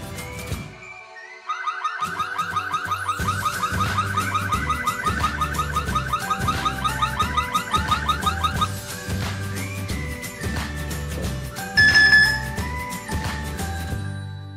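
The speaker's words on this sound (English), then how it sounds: "When the camera detects moving objects, it will give off alarming notice." Yoosee security camera's motion-detection alarm: loud electronic warbling tones start after a brief pause and repeat in a steady pulsing rhythm, shifting to different higher tones toward the end.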